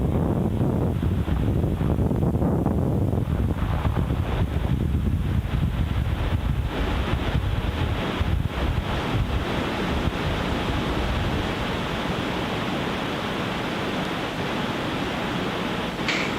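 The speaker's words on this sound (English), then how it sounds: "Falcon 9 has successfully lifted off from Space Launch Complex 4E" Falcon 9 rocket engines thunder during liftoff from Space Launch Complex 4E, a continuous broad rumbling roar that swells and churns steadily without pause.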